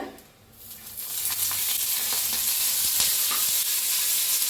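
Chilies, peanuts and garlic sizzle and crackle in hot oil in a pan, a steady close frying hiss that swells after a brief quieter start and carries on with small pops.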